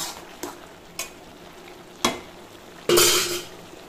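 Pieces of bata fish go into a pan with gourd curry, setting off a low frying hiss punctuated by four separate clatters and sizzling bursts, the last one loudest and longest.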